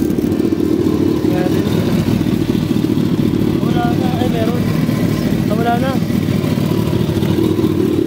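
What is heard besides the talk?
Kawasaki ZX14R motorcycle engine revving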